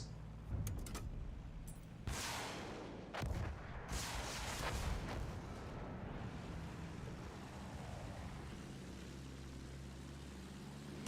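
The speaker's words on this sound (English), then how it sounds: "Try using the rockets on them." Battlefield 1 rockets blast toward ground targets in a few heavy, booming bursts over the first five seconds, then fade into a low rushing wind and engine drone.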